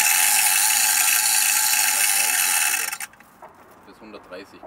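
A spare wheel carrier on a Setra S 531 DT double-decker bus, a heavily geared mechanical crank rated to lift about 160 kg, is wound with a steady, loud ratcheting whir for about three seconds, then stops, leaving faint background talk.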